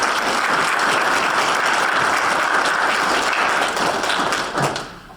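An outdoor crowd at a university groundbreaking ceremony for a student engagement center applauds steadily, a full, even rattle of many hands clapping for about five seconds before tapering off at the end.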